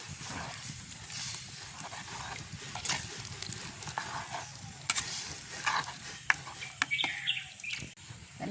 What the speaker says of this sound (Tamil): அதோட அளவான தேங்காய் பாலையும் சேர்த்துக்கொள்வோம். எல்லாத்தையும் சேர்த்து துளாவி விடுவோம்.